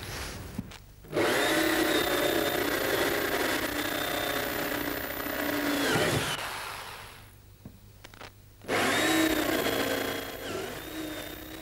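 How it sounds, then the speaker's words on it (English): A flat-ended drill bit grinds out spot welds in a car body in two long, loud bursts, whining steadily with a short quieter pause between them. "I'm going to drill out the spot welds with a special drill bit"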